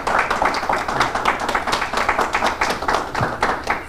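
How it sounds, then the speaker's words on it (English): A studio audience at a Scranton, Pennsylvania mayoral candidates' debate claps after the opening statements, a steady burst of applause from many hands that fills the room and carries on without a break. "it's okay to applaud after the opening statements for everybody"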